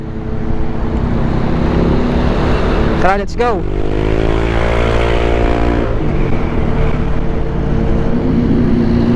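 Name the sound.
strong wind noise while riding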